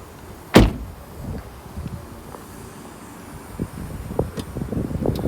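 A BMW M3 CS door unlatches with a sharp, solid clunk, followed by quiet shuffling and light handling noises nearby.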